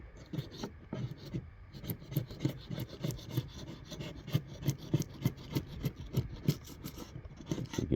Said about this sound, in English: So I'm just scraping this crap off.